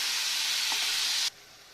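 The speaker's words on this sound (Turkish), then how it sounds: "Bu şekilde hemen kızgın olarak tavama ilave etmiştim tavuklarım arkadaşlar." Loud, steady sizzling of chicken frying in a hot pan, a bright hiss that cuts off abruptly near the end, leaving faint background.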